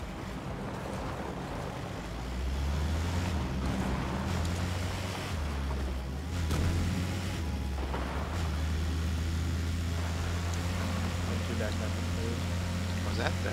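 A boat motoring across water in PUBG, a steady low engine drone with wave and wind wash, rising and falling slightly in pitch as it cruises.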